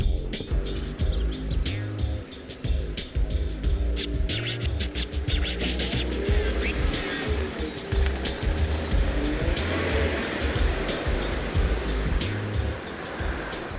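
A Ford Ranger pickup with a 2.5 litre turbo engine drives along, heard from on board as a continuous rumbling road and engine drone with rattles and clicks over the bumps.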